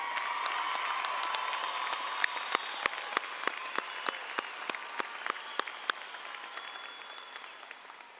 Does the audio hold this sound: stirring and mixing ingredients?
no